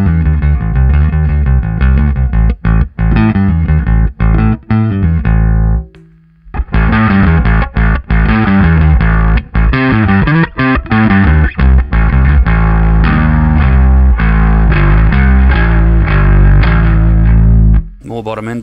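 Bass guitar through a BearFoot BlueBerry Bass Overdrive pedal with the gain up: loud, gritty, distorted notes and riffs that play nearly continuously, with one short pause midway and an abrupt stop near the end.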